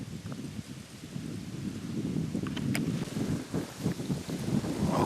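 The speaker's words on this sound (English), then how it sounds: "Finally got a north wind, straight north wind." Steady north wind blows across an open outdoor spot during late-November hunting, a continuous low rushing roar with gusty swells and buffeting against the microphone, no voices.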